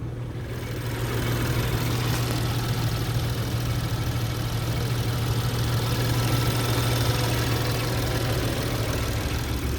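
A 2013 BMW 335 with a manual gearbox idles steadily for about ten seconds, a constant low hum with a smooth even rumble and no voices.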